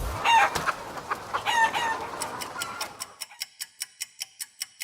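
Chickens cluck and a rooster crows as a storytelling sound effect, the busy fowl noise fading out into a steady run of evenly spaced clock-like ticks that continue alone to the end.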